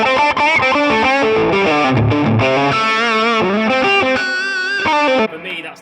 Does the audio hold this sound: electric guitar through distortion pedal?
yes